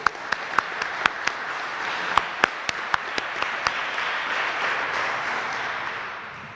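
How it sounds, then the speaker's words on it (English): Applause fills the hall at a police junior graduation ceremony in Linden, a steady wash of many hands with a few louder individual claps standing out near the start, then gradually fading toward the end. "give a round of applause for our audio video crew"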